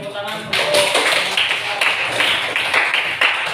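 A classroom group claps after a classical guidance session, starting abruptly and continuing as a fairly loud, uneven burst of many hands, with faint voices mixed in.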